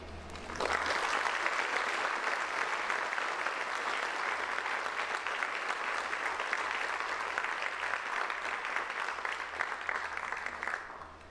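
An audience at a Christian campus house gathering breaks into steady, full applause that runs for about ten seconds of dense clapping and then ends abruptly.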